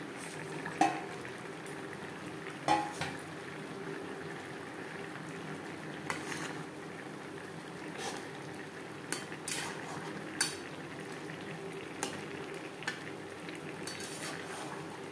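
Fish pieces with vegetables simmering in a pot of spice-free curry, a quiet bubbling under scattered spoon clinks and pot taps spaced every second or two, no talking.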